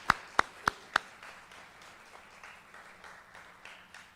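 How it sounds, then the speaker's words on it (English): In a high school auditorium during a Veterans Day program, four sharp, close hand claps ring out in quick succession. Softer, scattered clapping follows from the wider audience, fairly quiet and reverberant, with no talking. "Round of applause for all of us here in the auditorium."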